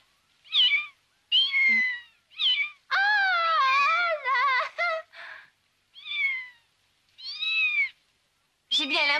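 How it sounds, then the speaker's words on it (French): A small kitten meows repeatedly, about nine clear, high, wavering cries with short pauses between, some longer and more plaintive, close and distinct with a quiet background. "je n'ai jamais vu un petit chaton aussi mignon"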